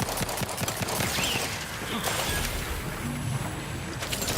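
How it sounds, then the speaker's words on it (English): Gunfire in The Outer Worlds 2, a run of quick, clipped shots and rattling bursts at moderate volume over a noisy, steady combat background. "I'm shooting things."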